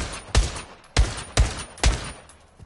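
Four sharp pistol shots ring out in a PSVR2 VR shooter played with a Kobra VR Vader One gunstock, spaced unevenly about half a second apart, each a loud crack with a brief decaying tail over quiet background.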